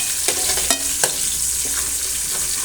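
Chopped onion and curry leaves sizzle in hot oil after urad dal, for an oil brinjal gravy, with a constant loud hiss broken by several sharp spoon scrapes against the pan.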